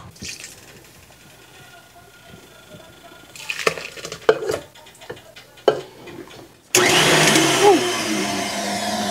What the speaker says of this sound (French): je vais pouvoir pétrir avec mon mixeur